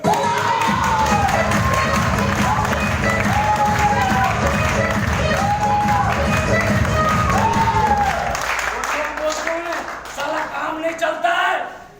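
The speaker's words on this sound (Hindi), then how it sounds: "एक बार उनके लिए अब तक की सबसे जोरदार तालियां मिस्टर लेखराज सर" An audience at a stage event gives Mr. Lekhraj loud applause and cheering, with sustained clapping, shouts and high voices and a booming backdrop, thinning out toward the end.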